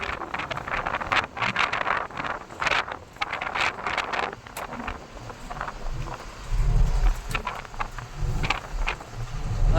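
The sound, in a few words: strong wind at a high viewpoint in Rajasthan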